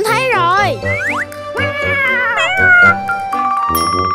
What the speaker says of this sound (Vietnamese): Mèo con, mèo con, mèo con, mèo con.